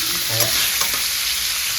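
Pork pieces fry in a pan for curry, a steady close sizzle with a couple of brief stirring scrapes.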